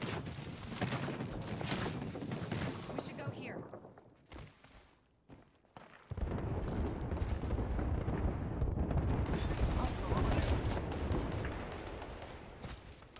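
Gunfire in Apex Legends, with loud, dense volleys of shots that thin out briefly in the middle, then a heavy rattle of sustained firing resumes and continues to the end.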